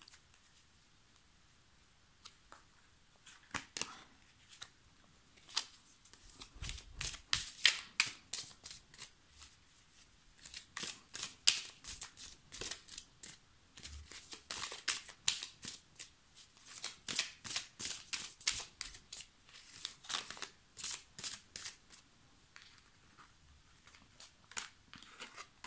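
A deck of tarot cards is shuffled by hand, giving repeated crisp riffling and slapping bursts in uneven rhythm, close and fairly quiet, with no speech over it.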